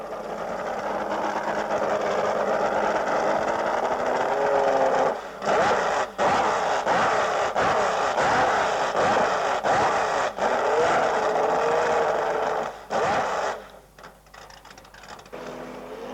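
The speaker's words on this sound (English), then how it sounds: "Orsola from Italy, testing its Lamborghini engines." The Lamborghini engines of an Italian Class 1 offshore powerboat run on a test, a loud steady droning roar with rhythmic pulsing and brief dips and drop-outs, fading at the end.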